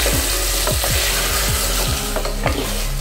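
Meat cooking down in spices and released oil in a pot sizzles loudly and steadily, while a utensil scrapes through it in repeated, rhythmic strokes close by.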